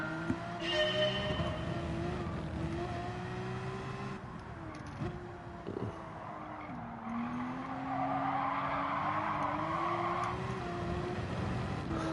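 Race car tyres drift around the final corner at Fuji on hard compound rubber in Gran Turismo 7, a long continuous squeal that wavers in pitch over a steady engine drone, sustained for about twelve seconds.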